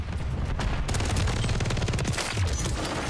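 Rapid automatic gunfire in Modern Warfare III multiplayer, dense bursts of loud shots rattling almost continuously, with explosive booms mixed in, no talk.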